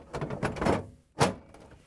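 A Samsung refrigerator door swings shut after an ice maker fan repair, giving one close, soft thunk after a stretch of lighter rustling handling sounds, with no talk.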